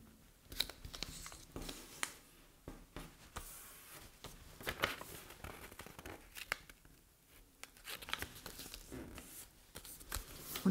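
Paper rustles and crinkles softly while being folded into an origami star, with intermittent quiet creases and handling sounds, close and faint.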